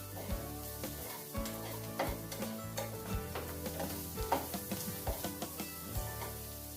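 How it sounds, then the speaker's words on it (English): Onions sautéing in a pan for cheddar cheese potato soup, a steady crackling sizzle with tapping clicks of a utensil stirring against the pan, close and moderately quiet. "Just saute that just a little bit, and then we'll put this in with the potatoes."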